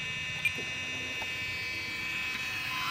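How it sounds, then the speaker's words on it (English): A KingTech K-60 turbine starter spinning up inside an RC F-16 jet model gives a steady electric whine and buzz, with a bright high tone running constantly at close range and no talking. "the starter is trying to spin her up"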